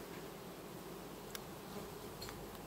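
Honey bees hum steadily around a hive in midday August, a faint, even buzz from several insects close by, with no voices.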